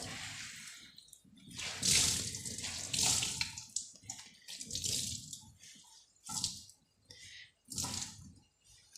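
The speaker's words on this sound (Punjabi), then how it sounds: "ਇਹਨੂੰ ਚੰਗੀ ਤਰ੍ਹਾਂ ਆਪਾਂ ਗਿੱਲਾ ਕਰਕੇ ਤੇ ਨਿਚੋੜ ਲੈਣਾ ਹੈ" A cotton dupatta is soaked and wrung out in water. Splashing and trickling water come in repeated bursts with squishy wringing sounds and brief pauses between them, close and fairly quiet.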